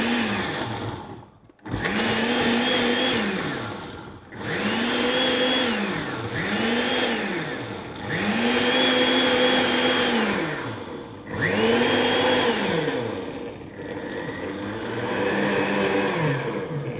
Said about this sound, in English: I'm going to blend this here.